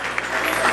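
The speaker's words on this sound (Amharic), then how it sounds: "ለጌታ ለኢየሱስ ክብር አጨብጭቡ" A church congregation claps in praise, a dense, steady wash of applause over a brief moment with voices mixed in.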